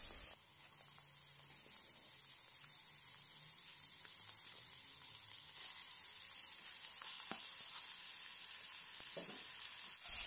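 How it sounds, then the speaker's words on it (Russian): Chopped vegetables and minced meat frying in a pan for a lasagna sauce, a steady close sizzle and hiss running throughout with occasional faint stirring clicks and no speech. "Припускаем овощи и добавляем фарш."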